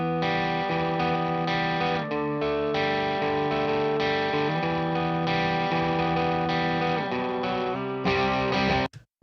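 Electric guitar recorded through an ML2 microphone, a dense sustained distorted part with effects, loud and continuous for about nine seconds before cutting off abruptly at the end.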